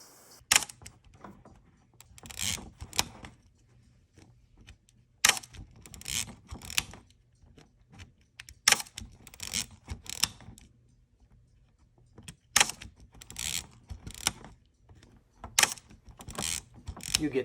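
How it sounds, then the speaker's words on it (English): The shutter and film-advance mechanism of a Minolta-16 MG subminiature camera gives repeated close clicks, ratcheting and sliding snaps. They come in irregular bursts separated by quiet pauses, and no one talks. "you have to have the windows open before the shutter release will work."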